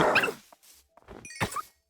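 Pet dog in a survival video game making short, close barks and yips in a quick irregular string of bursts with brief gaps between them, heard alone without talking.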